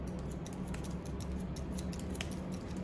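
Scissors snip hair during a classic haircut using the scissor-over-comb technique, a rapid series of crisp, light metallic clicks close to the microphone over steady background hiss.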